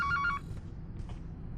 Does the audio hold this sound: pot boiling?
no